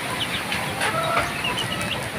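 Pet chickens cluck and murmur in a noisy backyard flock, their calls overlapping continuously at close range with no voices.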